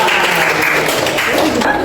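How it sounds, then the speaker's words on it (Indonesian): Classroom applause for a student group during a primary school civics lesson, continuous close clapping from many hands, loud and even for the whole moment. "tepuk tangan untuk kelompok 4"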